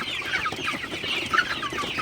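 Sonali super hybrid chickens on a farm clucking at midday, a close, continuous mix of overlapping clucks and soft chatter from several birds with no one speaking.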